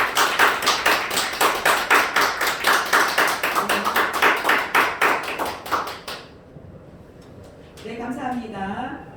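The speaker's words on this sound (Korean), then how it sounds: "큰 박수 부탁드립니다" An audience at a church mission event claps in rhythmic, synchronized beats for about six seconds, then falls quiet before a voice begins speaking.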